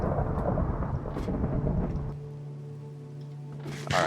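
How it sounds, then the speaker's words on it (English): A video game thunderstorm: a loud, rolling rumble of thunder over steady rain that eases into a softer patter, with brief bright crackles near the end. "Actually, this is a thunderstorm."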